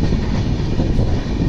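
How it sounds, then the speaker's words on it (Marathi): Konkan Railway train running through a tunnel, a loud, close, continuous low rumble of wheels and carriages that fills the whole moment. "वर्षानुवर्ष सतत कोकण रेल्वे याच सुरुंगांमधून धावत आलेली आणि अजूनही धावतेच आहे."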